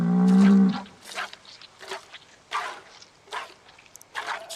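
A cow in Project Zomboid gives one loud, low moo at the start while being milked, followed by softer scattered rustles and clicks.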